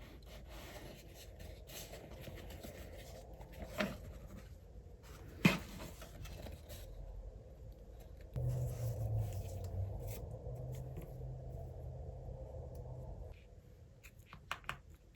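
Scrap cardboard dragged across a surface to spread glue evenly while making a cardboard box, soft intermittent rubbing and scraping strokes, quiet and close, with a few light taps and a longer smoother rub toward the end.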